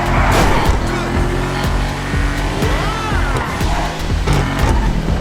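A loud, raspy Enus Paragon S sports car engine in GTA Online revs and roars steadily, with brief tire squeals and skids breaking through the drone.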